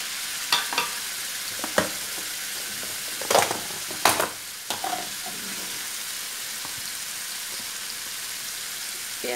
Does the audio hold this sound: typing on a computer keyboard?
no